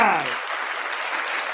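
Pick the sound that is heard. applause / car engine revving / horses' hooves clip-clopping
applause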